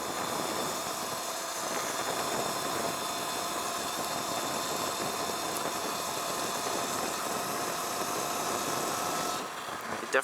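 A Sur Ron BAC2000 electric dirt bike, overheated and losing power, climbs Sierra Road with a steady, loud motor whine and heavy wind rush that stays constant throughout, then dips briefly just before the end.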